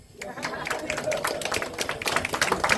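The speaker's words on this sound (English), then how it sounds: "Yeah, clap." An audience at an Electrician Day keynote by the mayor claps briefly, a light, moderate patter of hands building over a couple of seconds with a murmur of voices.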